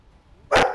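A single short, loud bark-like burst, voiced by a person imitating a dog during an Overwatch 3v3 gaming session, cutting in sharply after near silence.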